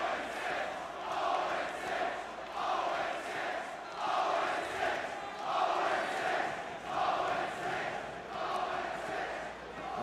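Large esports arena crowd at a championship-weekend winners-bracket final, cheering and chanting in rhythmic rising swells, steady and loud throughout.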